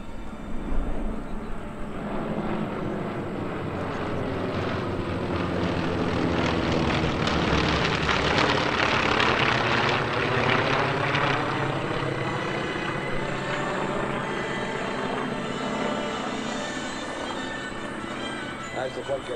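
WWII warbird propeller planes, such as a P-51, B-25 and T-28s, pass at an airshow with a loud droning engine roar that swells and slowly fades, while an announcer talks over it.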